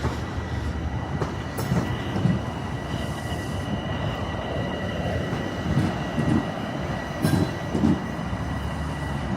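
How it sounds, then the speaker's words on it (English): A train rolls past on a railway near a Toronto station at low speed, with a steady loud rumble of wheels on track, faint squeals and rhythmic clacks, heard close and without speech. "Going about as fast as DTC trains go."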